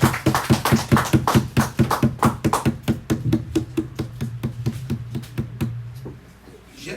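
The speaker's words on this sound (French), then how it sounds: "Let's applaud the Lord" A church congregation claps together in a steady, quick rhythm, loud at first, then gradually thinning and fading out near the end.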